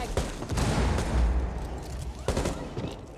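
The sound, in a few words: frag grenade explosion in Rainbow Six video game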